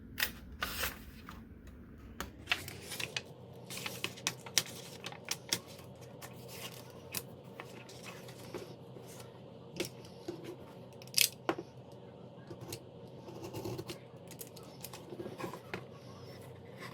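Scattered snips, scrapes and taps of a blade cutting apart a hardcover book binding, quiet and close, irregular light clicks over a faint hum.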